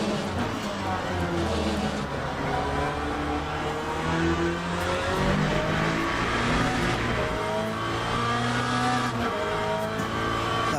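Race cars in the video game Le Mans Ultimate roar steadily up and down through their gears, engines droning loud and continuous, with a second car close behind and someone talking over them.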